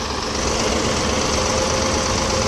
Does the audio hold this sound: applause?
no